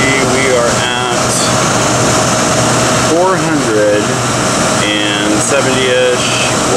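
A window air conditioner drawing a few hundred watts just after being switched on, its fan making a steady broadband hum under someone talking.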